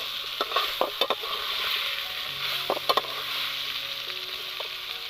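Tomatoes being stirred into chicken masala frying in a pan outdoors, a steady sizzle with a few sharp utensil knocks against the pan, close by.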